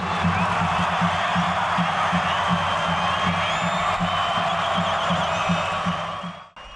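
A stadium crowd of over 8,000 football fans keeps up a steady, loud roar of cheering and chanting for Botafogo-SP against Amazonas, with rhythmic drumming beneath, before it cuts off abruptly at the end.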